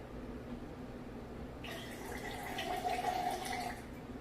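Lemonade being poured into a drink, a short soft trickle of liquid starting abruptly and running for about two seconds over a quiet room hiss.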